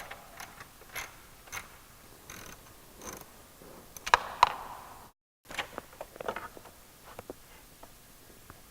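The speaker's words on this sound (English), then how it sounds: "to remove these front 2 bolts here, you're going to use a 10mm socket, and to remove the hose clamps, you'll use a 8mm socket." A socket wrench loosens bolts and hose clamps on the air intake of a Jeep Wrangler JL 3.6L, sounding as scattered quiet ratcheting clicks and bursts of ticking with a short silent gap and no speech.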